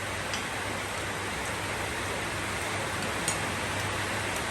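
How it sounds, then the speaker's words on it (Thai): Rain falls in a constant, even hiss with a few faint ticking drops, and no voices over it. "มาค่ะอร่อยอร่อยโอ้กับบรรยากาศฝนตกนะคะวันนี้"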